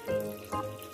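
Water trickling from the tap of a toy sink into its basin while toy cars are washed, a short close splashing run with brief surges, no talk over it.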